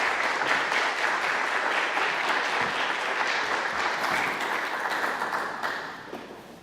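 An audience at a lecture in an awards series applauds to welcome a speaker: dense, sustained clapping from many hands fills the room for several seconds, then thins and fades at the end, with no voices over it.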